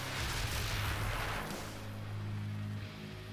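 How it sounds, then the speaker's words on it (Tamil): A firecracker blast in an anime, a dense roaring boom that fills the range and then fades into a rumbling, crackling tail, loud and close with no talk. "அப்பதானே இந்த வெடி நல்லா மேல போய் வெடிக்கும்."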